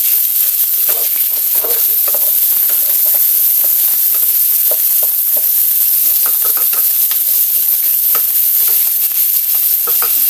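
Ground meat fries loudly in a pan, a dense continuous sizzle broken by crackles and stirring scrapes, close up with no talking, while cooking an eggplant and minced meat dish.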